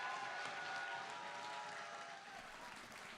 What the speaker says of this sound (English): they deserve as much applause